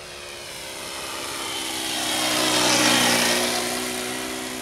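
A red Pietenpol Air Camper RC model plane with an ASP 5cc four-stroke engine makes a fast flyby, its buzzing engine drone rising to a peak and then fading as it passes.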